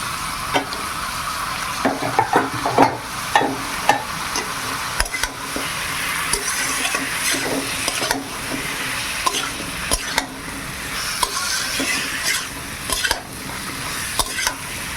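Marinated chicken with cumin paste is stirred and fried in a pan for a chicken stew. A steady, close sizzle runs throughout, broken by repeated scraping and knocking of the spatula against the pan.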